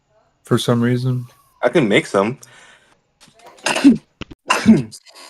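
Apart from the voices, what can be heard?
sneeze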